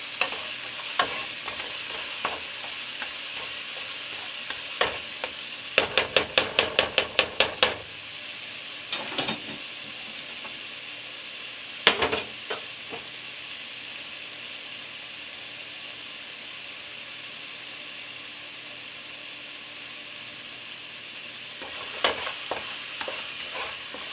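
Garlic sizzles in a pot over medium heat while making pasta e fagioli, a continuous hiss broken by bursts of rapid scraping and clinking as it is stirred, close and alone.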